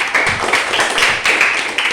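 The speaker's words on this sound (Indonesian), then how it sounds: "kasih tepuk tangan untuk Ruth" A classroom of students claps for a classmate named Ruth, a dense, fairly loud patter of many hands at close range that continues steadily.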